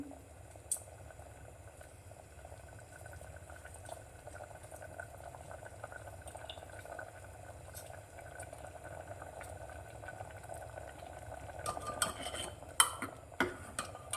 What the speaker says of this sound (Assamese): এইটো মই অকণমান দেৰি উতলিবলৈ দিম আৰু উতলাই নমাই থ'ম।